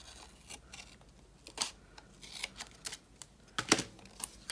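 Scissors snip through paper labels in a quiet room, a handful of short, crisp cuts spaced irregularly with soft rustling between them, close by and with no talking.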